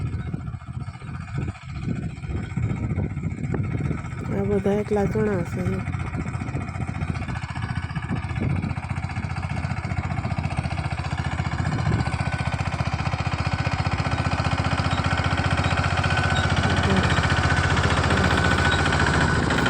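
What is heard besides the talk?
mini tractor engine running in a farm field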